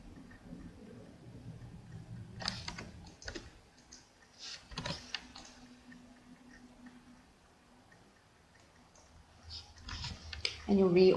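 Computer keyboard keys are tapped in a few short clusters of sharp clicks while entering stock figures, close and fairly faint, with quiet gaps and a low hum between them.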